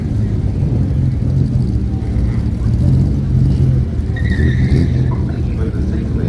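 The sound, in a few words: race car with 6-litre V8 engine doing burnouts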